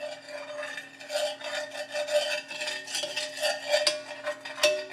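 The back of a spoon spreads coating around a skillet for chicken with roasted potatoes and carrots, making a steady rasping scrape of metal on the pan in repeated strokes, close and fairly loud, with no talking.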